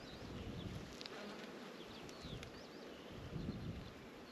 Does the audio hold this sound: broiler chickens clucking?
no